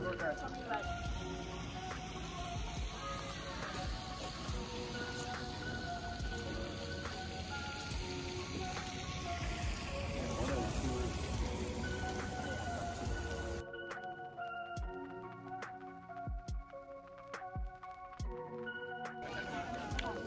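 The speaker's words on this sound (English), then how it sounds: "And it is raining." Rain patters steadily on surfaces in Juneau, Alaska, with scattered drops, while tonal hum and voices sit in the mix; the texture thins partway through.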